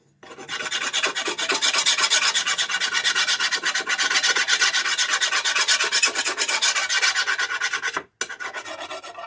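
A file rasps steadily across the edge of a worn, nicked Toro Recycler mower blade, with dense back-and-forth strokes running close and loud for about eight seconds, a brief pause, then resuming.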